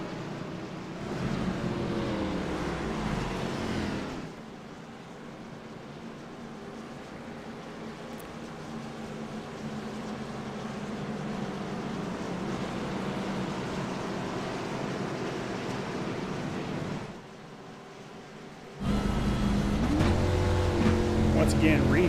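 Video game race cars roar around an oval during an All Star race, a steady droning engine blend with a commentator talking over it, dipping briefly twice before the engines return loud.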